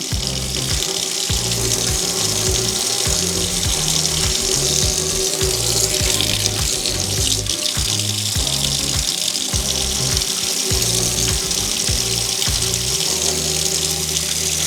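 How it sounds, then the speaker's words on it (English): Water runs from a kitchen tap into the sink while waiting for it to heat for pressure canning peppers, a loud steady splashing gush that continues without pause. "I'm going to turn the water on so it can get hot"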